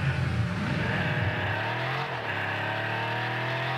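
A loud, steady Bugatti Centodieci engine roars continuously in Rocket League, its pitch dipping and then holding, with a slight skidding or revving edge.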